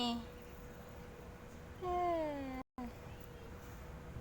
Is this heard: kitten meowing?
yes